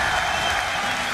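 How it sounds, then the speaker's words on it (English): Crowd at the League of Legends All-Star Paris 2014 match between FNATIC and SK Telecom T1 lets out a loud, steady roar of cheering and applause, dense and continuous throughout. "Cheer goes up from the crowd as FNATIC hang on by a thread"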